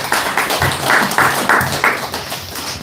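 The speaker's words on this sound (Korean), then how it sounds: "박수!" Audience claps in quick, evenly spaced bursts at a senior healing class following an elder's lecture; the claps are close and fairly loud, then fade near the end.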